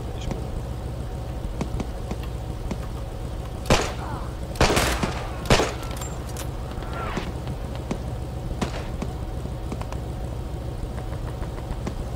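Gunfire in the World War II shooter Hell Let Loose, with a few scattered sharp shots and a short cluster of bursts over a steady low engine rumble.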